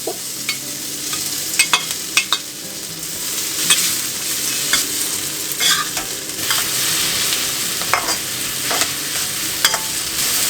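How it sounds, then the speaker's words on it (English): Garlic, tofu, dried shrimps and sweet dried radish stir-fried for pad thai, a steady loud sizzle in a hot pan broken by frequent sharp scrapes and clacks of a spatula stirring, with no talk. "Fry it up until you can smell the smell of garlic, and then you add tofu, dried shrimps, and sweet dried radish"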